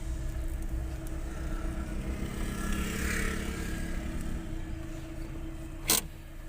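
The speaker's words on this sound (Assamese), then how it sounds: "গাড়ী পাৰ্কিং কৰি আছোঁ আমি।" A car being parked at a station sends out a steady, close engine and road hum for several seconds, with one brief sharp click near the end and no voices.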